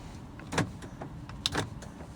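Central locking on a 2021 Nissan Almera Turbo 1.0 VLT actuating inside the cabin: two short mechanical clunks about a second apart, close and fairly crisp against a quiet interior.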